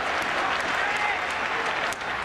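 A baseball stadium crowd applauds during a 2006 ALDS game, a sustained wash of clapping and cheering at a steady level that eases slightly near the end, with a commentator's voice under it.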